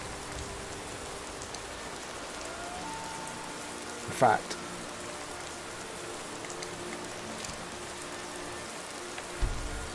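Constant rain falling in the video game Skyrim forms a steady hiss from start to finish, while someone speaks briefly over it and a couple of soft thuds break through.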